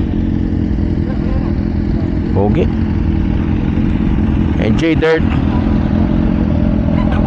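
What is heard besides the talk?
motorcycle engine revving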